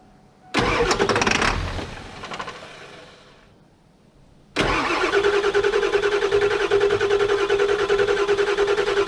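An old Ford F350 truck engine that has sat unused for 15 years cranks briefly, falls quiet for a moment, then fires and settles into a loud, steady, close running idle.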